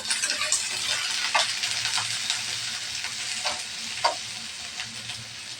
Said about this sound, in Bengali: খালি পেঁয়াজটা আমি ভালোভাবে ভেজে নেব